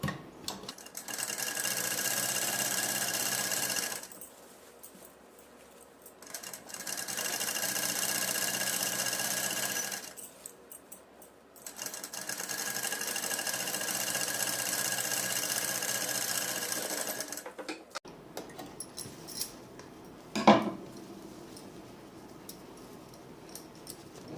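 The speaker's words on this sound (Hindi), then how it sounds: "इस तरह से उल्टा करके लाइनिंग पे एक सिलाई लगानी है" Sewing machine stitching lining onto suit fabric, running in three long steady bursts separated by short pauses, followed by quieter fabric handling and a sharp knock near the end; close and loud, with no talk.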